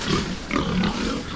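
Pigs grunting and snuffling in barn pens at a farm show, a steady close mix of low grunts and rustling filling the space without pause.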